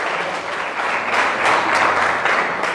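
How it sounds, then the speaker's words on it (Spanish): A church congregation applauds together, a steady wash of many hands clapping at moderate distance, swelling and easing in waves for a few seconds. "Dale un aplauso al Señor"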